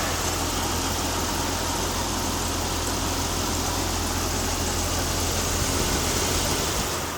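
A Jeep Cherokee XJ with the 4.0 engine idles steadily just after its first start on old fuel, a smooth, even, continuous mechanical hum with no voices.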